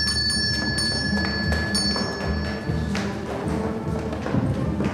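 A bell rings clearly at the start, with a high, ringing tone that repeats once and then fades, over background thumps and clatter.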